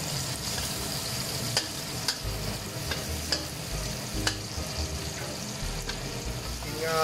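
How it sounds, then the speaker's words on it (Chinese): Dried shrimp stir-fried in a pan, sizzling steadily throughout with repeated scraping clicks of a spatula tossing the food, close and fairly loud with no talking. "现在炒虾米啊"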